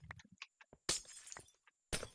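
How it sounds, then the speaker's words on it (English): Glass blocks shattering in Minecraft: two sharp, bright breaking crashes about a second apart, standing out over quieter scattered game clicks and footsteps at low overall volume. "Hope y'all like the sound of glass."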